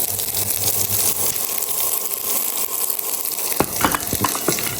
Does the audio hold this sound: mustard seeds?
yes